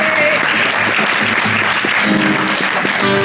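A crowd claps steadily at a live Deep Dish Swift concert, dense sustained applause lasting a few seconds with a little voice mixed in.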